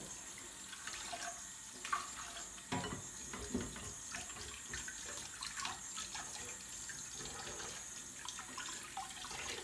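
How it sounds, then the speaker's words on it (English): Gluten dough being washed and kneaded by hand under a running tap to rinse out the starch, a steady stream of water with splashing and squelching handling sounds, close up and without talk. "we're going to be washing away the starch. So I'm just going to be handling our dough"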